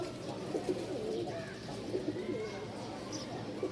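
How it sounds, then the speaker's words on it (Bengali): A pair of black pigeons, male and female, coo in a low, soft, repeated rumble throughout, with faint chirps from other birds nearby. "খুবই চমৎকার একটা কবুতর জোড়া"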